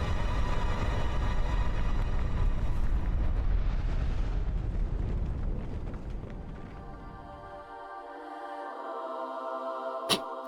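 A big rumbling explosion in the video game Chained Echoes, a loud broad roar that slowly fades over several seconds into a tonal game tail, ending with one sharp click.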